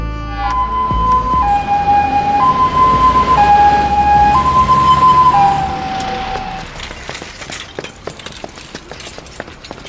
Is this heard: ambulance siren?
yes